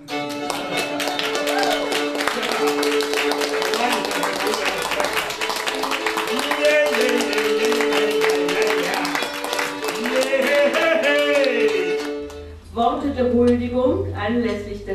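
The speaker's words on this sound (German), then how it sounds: "Jetzt könnt ihr klatschen." Audience applause at an award ceremony, steady dense clapping throughout with music playing over it, briefly dipping before resuming.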